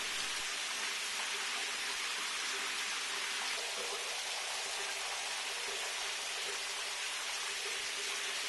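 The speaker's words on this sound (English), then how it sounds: "As soon as I get out of this rain." Steady rain pours down outdoors as a constant broadband hiss, loud and even throughout with no voices.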